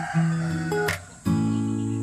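A rooster crows in the middle of a song, its call brief and partly mixed under sustained singing and instrumental music.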